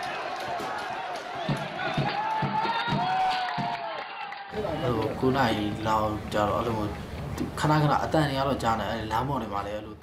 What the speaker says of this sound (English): the violence escalates and the crowd goes on a rampage